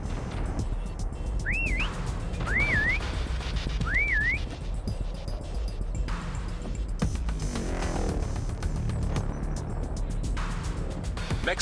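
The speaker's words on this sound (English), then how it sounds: "Next whistle in 10 seconds." Three short rising-falling round whistles from a Call of Duty prop hunt match sound in quick succession over steady game noise and background clatter.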